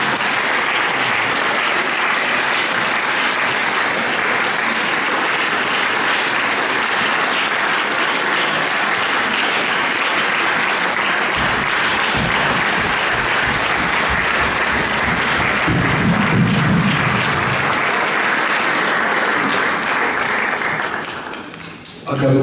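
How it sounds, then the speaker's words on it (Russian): Concert audience at a Russian anniversary concert applauding, dense sustained clapping from a large crowd filling the hall for over twenty seconds before tapering off at the end. "аплодисментами провожайте Анатолия Владимировича Кальварского со сцены"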